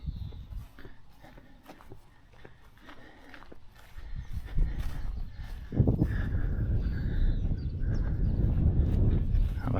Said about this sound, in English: Where all the horses are.